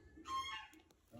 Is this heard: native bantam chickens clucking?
yes